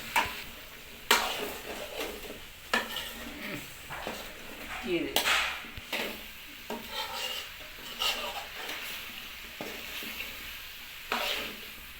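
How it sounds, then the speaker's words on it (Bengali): Soybean curry being stirred with a little water in a pan: quiet, recurring scrapes and soft sizzling under low background sound, with faint talking. "এবার হালকা জল দিয়ে দিয়ে নেড়ে নিতে হবে"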